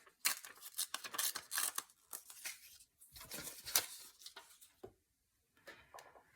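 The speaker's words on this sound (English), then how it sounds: "I'm just going to use Encyclopedia and just kind of tear some of that" Pages torn from an old encyclopedia for a paper craft project, a run of close, crisp ripping strokes in quick bursts with short pauses, then a final few tears after a brief silence.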